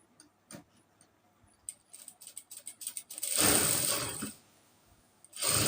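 A sewing machine stitching straight pant fabric: scattered light ticks and clicks build to a fast rhythmic patter, then the machine runs in a loud, steady whirring burst, stops briefly, and starts again.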